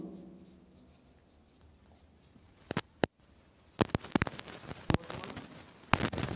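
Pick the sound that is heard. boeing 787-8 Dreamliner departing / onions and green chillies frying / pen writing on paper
pen writing on paper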